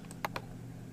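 A computer mouse gives two sharp, close clicks in quick succession over faint steady room hum.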